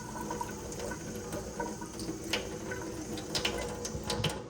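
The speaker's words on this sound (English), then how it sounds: "grab a little bit of water, rinse off any excess" Water running from a tap to rinse excess glue off an anubias aquarium plant, a steady splashing wash with brief brighter splatters, fairly quiet and without talk.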